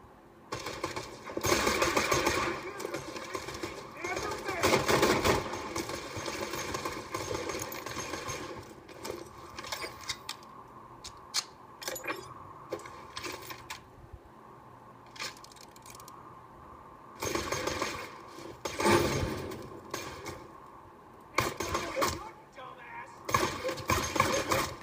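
Rapid bursts of automatic gunfire from a gun in the Borderlands 2 video game come in dense, loud stretches separated by brief pauses, with a player talking over parts of it.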